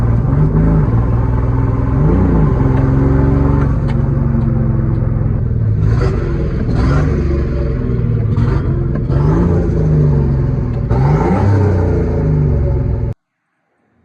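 A drift truck's engine revs hard and loud, running steadily with rising and falling pitch, close up and alone without voices, then cutting off abruptly near the end.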